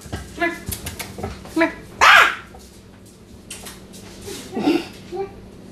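A pet dog at home gives several short, close barks and yips, mixed with a few whimpers, in uneven bursts while people talk nearby.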